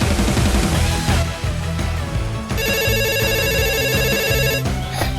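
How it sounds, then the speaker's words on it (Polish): Telephone ringing in a Polish children's cartoon about a forest ranger, an electronic ringtone of steady repeated beeping tones sounding loud over background music for a couple of seconds. "Telefon dzwoni."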